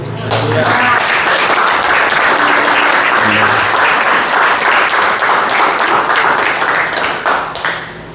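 A church congregation claps loudly and continuously during a Portuguese-language service, dense applause filling several seconds with a voice briefly audible over it before it fades.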